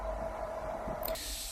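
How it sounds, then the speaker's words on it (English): A leftover can of zinc spray hisses in a single short burst near the end, close and sharp, after a steady low mechanical hum. "This zinc spray, left over from another job."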